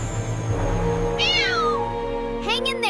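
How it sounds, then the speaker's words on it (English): A cartoon kitten stuck up a tree meows in a series of plaintive rising-and-falling cries over background music, loud and close. "spots a poor little kitten"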